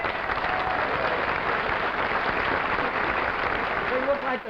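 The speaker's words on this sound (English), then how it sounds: "What do you say we give them a nice round of applause, huh?" Sustained applause from a theatre audience honouring servicemen at a televised Christmas comedy show, a dense steady wash of clapping at even loudness for the whole stretch, with faint voices mixed in near the end.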